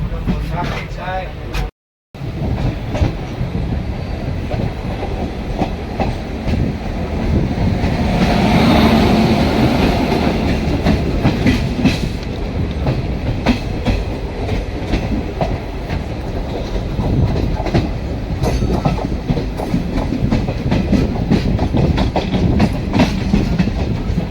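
The Shalimar–Bhojudih Aranyak SF Express rolling on rails, heard from inside with a continuous loud rumble and rhythmic clickety-clack, while passengers talk nearby.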